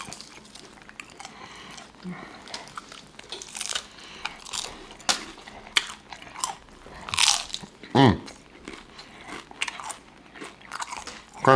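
Close, loud crunching bites and chewing of crisp buffalo chicken nachos, sharp crackles spaced irregularly with a brief murmur of voice in between.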